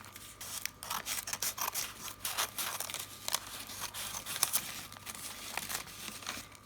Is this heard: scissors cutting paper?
yes